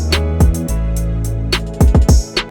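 A sub bass synth preset, The Sub from Wolf, played clean without overdrive in an R&B beat: deep sustained low notes with gliding kick-like hits and crisp percussion ticks on top, loud and upfront with no talking.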